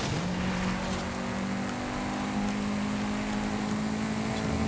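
A Mercedes-AMG One's engine drones at a steady high pitch in the racing game Forza Horizon 5, holding near-constant revs as it cruises, loud and continuous throughout.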